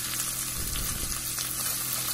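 Onions sautéing in a pan for egg biryani make a soft, even sizzle with a brief burst of stirring in the middle, heard alone.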